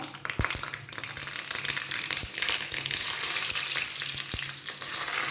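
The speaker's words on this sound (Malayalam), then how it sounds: "ഇനി നമുക്ക് ആ എണ്ണയിലേക്ക് ഇപ്പം കടുകിട്ട് കൊടുക്കാം ഉലുവ ഇട്ട് കൊടുക്കാം" Mustard seeds and fenugreek sizzle in hot oil left from frying okra for a curry, a steady loud crackling hiss with sharp popping seeds spattering throughout.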